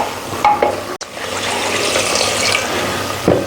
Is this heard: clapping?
no